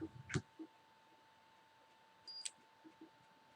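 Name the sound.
electronic device beep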